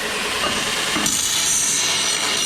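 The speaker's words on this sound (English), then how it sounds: "now I'm going to take these and deburr them" Scraping and rubbing of a deburring tool working over freshly cut metal pieces for an adjustable pit bike ramp, a steady close-up grinding texture with brief louder strokes, no talking.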